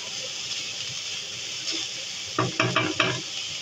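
Mince frying dry in a pan, a steady sizzling hiss broken near the end by a few quick scraping stirs, no speech.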